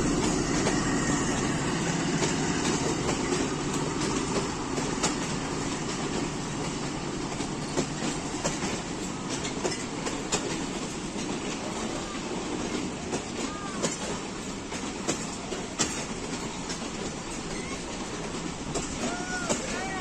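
A Pakistan Railways rail car runs along the tracks, a loud continuous rumble with rhythmic wheel clatter and faint squeals throughout, close by and steady.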